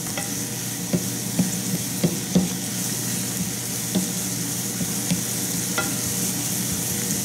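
Onions cooking with balsamic vinegar in a pan, a steady sizzle running throughout with occasional soft clicks of a utensil stirring, close and alone with no talk.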